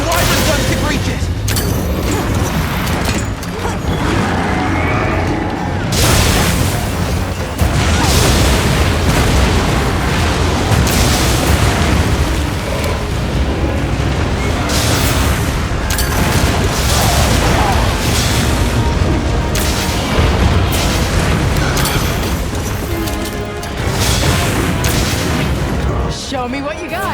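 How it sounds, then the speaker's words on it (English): An anti-wyvern gun in Monster Hunter Wilds fires during a battle with Gogmazios, heavy booms and blasts pounding densely and loudly throughout amid ongoing combat din. "Combat anti-wyvern gun can reach it!"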